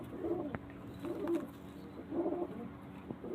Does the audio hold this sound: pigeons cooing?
yes